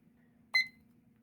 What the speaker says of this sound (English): I'm just going to go ahead and start my timer over here.